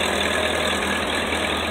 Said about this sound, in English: That's an old tractor, isn't it?